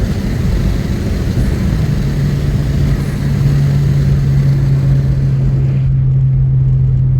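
Tuned Audi A3 1.8 turbo engine pulling steadily under acceleration, a loud continuous drone with a rising tone that settles into a sustained hum, recorded from inside the car with no talking.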